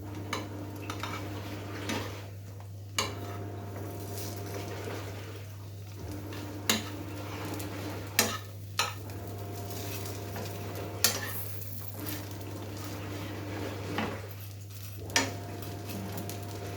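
Pots being stirred during home cooking give off soft, irregular clinks and scrapes of utensils against cookware, spaced every second or two over a steady low electrical hum. The scene is quiet and fairly close.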